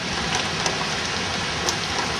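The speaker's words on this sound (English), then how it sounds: "Oh, here comes the rain." Heavy rain falls steadily during a storm with high winds and tornado warnings, a dense, unbroken hiss close by with a few faint knocks and spatters.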